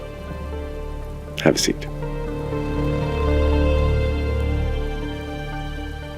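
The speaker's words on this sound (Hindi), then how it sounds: "बारिश बाहर हो रही है" Rain falling outside a house, a steady soft patter and hiss that continues throughout, heard from indoors under a short spoken line and a faint hum.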